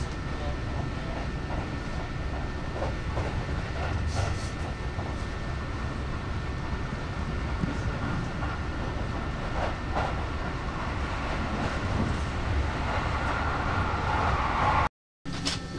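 A Keihan 3000 series electric commuter train on a rapid limited express run rumbles steadily along the tracks, heard from inside with a faint rhythmic clatter, ending in a brief cut of silence.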